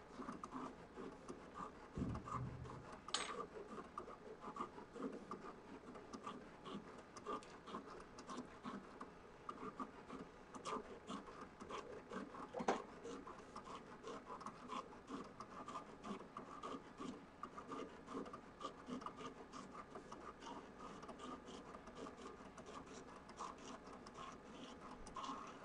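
A vinyl cutter cutting a custom t-shirt design, a faint continuous scratchy whir with small ticks and pattering as the blade moves, steady throughout and without talk.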